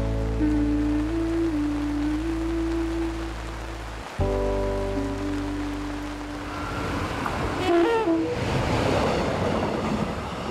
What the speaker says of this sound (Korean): 열차 속도는 점점 빨라지는데